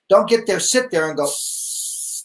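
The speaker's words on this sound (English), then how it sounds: "Just a burst of spray." A salon hairspray can gives one short burst of spray, a bright hiss of about a second that follows a man's brief spoken instruction.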